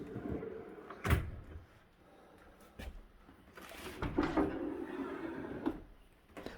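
Soft-close cabinet doors and drawers on pocket-hole cabinets slide and ease shut several times, giving muted knocks and gentle rolling glides at close range, with no voices.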